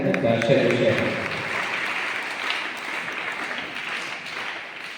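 Audience applause for an honoree at a felicitation ceremony, a broad wash of clapping that starts over a speaking voice and then continues on its own, gradually fading.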